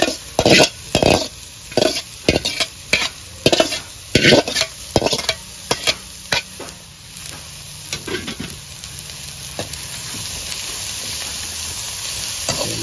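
Chopped onion, beans and carrot fry and are stirred in a pan for upma, with sharp scraping strokes in a loud irregular rhythm at first, then settling into a steady close sizzle.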